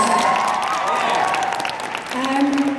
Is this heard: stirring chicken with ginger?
no